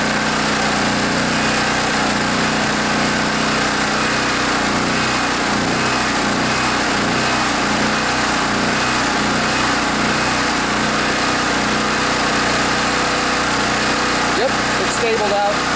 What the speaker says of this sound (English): Generators can take a little while to warm up.